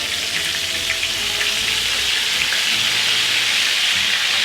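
Flattened food browning in a hot pan gives off a loud, steady, close sizzle that holds evenly throughout with no voices.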